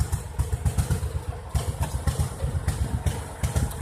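A biogas-powered generator engine idles close by, a rough, rhythmic low chugging with clattery pulses repeating several times per second, steady and unbroken with no talk.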